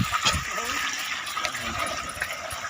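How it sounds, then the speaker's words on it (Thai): Solar-powered pump pouring water into an earthen pond, a continuous rushing splash heard close up while someone talks over it. "สูบน้ำใส่อ่างครับผม"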